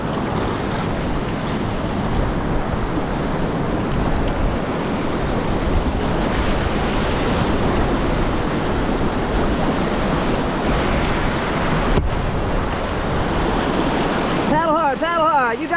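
River rapids and waves in Mather Gorge, heard from a paddled boat, roar as a dense, constant rush with wind buffeting the microphone throughout.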